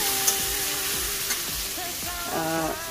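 Pabda fish frying in a pan with onion and tomato gives a steady, close sizzle, with faint stirring and a brief tonal clatter near the end.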